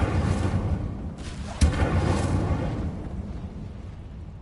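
Incendio fire spell cast in a Hogwarts wizarding video game: a rumbling, roaring burst with a sharp thud in the middle, then a low fiery rumble that slowly fades away.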